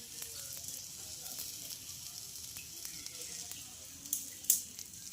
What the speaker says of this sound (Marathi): तर अशा पद्धतीची आपल्याला टिक्की करायची आहे आणि नॉनस्टिकच्या तव्यावर अशी घालायची आहे